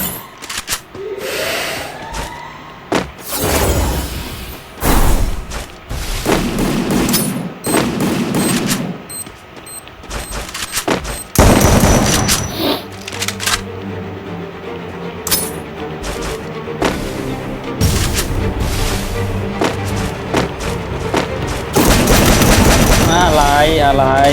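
Rapid gunfire from a MAG-7 shotgun in a shooting video game, with repeated loud shots and bursts spread through a busy, noisy game mix.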